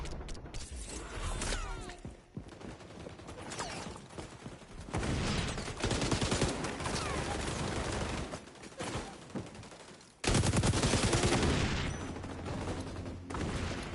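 Rapid SMG gunfire from the XDefiant multiplayer shooter on PS5, dense bursts with mechanical clatter and game effects, loud and sustained with a sharp surge near the end.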